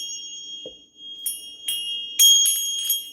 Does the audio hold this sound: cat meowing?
no